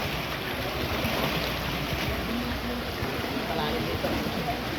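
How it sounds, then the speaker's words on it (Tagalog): A stream next to the cottages of a forest resort, flowing with a steady, continuous rushing wash of water, close by and fairly even, with talk mixed in. "Ayan naman po yung batis."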